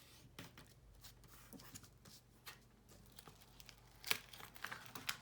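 Paper flaps of a handmade Valentine's gift box are folded over, giving soft crinkling and rustling handling noises with a couple of sharper crisp creases near the end, close and fairly quiet.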